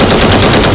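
A short, loud burst of rapid gunfire crackles close by, shots running together in a dense volley.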